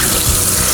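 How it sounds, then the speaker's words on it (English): Cold tap water running steadily onto a brined deer ham being rinsed in a sink, a loud, close, continuous splashing rush. "we're gonna run it under cold water"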